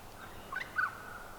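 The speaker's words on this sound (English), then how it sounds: "we've got a family of ducklings that have been nesting down in the gully" A family of eight ducklings nesting down in a gully gives two brief, high peeping calls in quick succession, faint against a steady outdoor hiss.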